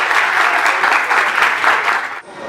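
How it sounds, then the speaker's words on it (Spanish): Steady, loud audience applause welcoming a guest at a talk, dense clapping running throughout before cutting off near the end. "quiero pedir un fuerte aplauso para Claudia"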